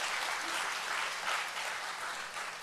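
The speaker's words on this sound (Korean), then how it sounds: "이때 박수 치시면 되는 겁니다" A church congregation applauds steadily through a baptism at a Sunday afternoon service, the dense clapping even and continuous, fairly distant, with no speech over it.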